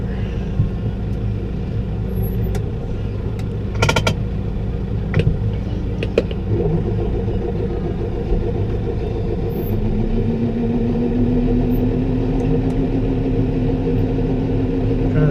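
A Case IH T5.120 tractor rumbles loud and close while working the PTO for a Teagle Tomahawk straw blower, with a few sharp clanks early on. Near the end a rising whine builds as the blower spins up.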